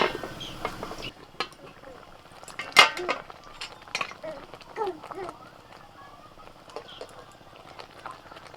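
A metal lid clanks onto a pot of boiling water with rice flour added, among scattered clinks of utensils and cookware, while a person talks over the kitchen sounds.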